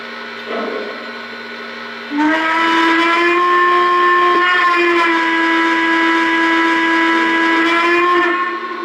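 A Greenbrier Chessie model train sounds a steady, loud steam whistle that holds for about six seconds after a brief quieter sound at the start, with no talking.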